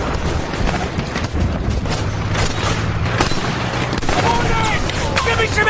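Japanese artillery barrage in war footage, dense booms and gunfire crackling over a loud continuous rumble, with shots overlapping throughout and a voice talking over it.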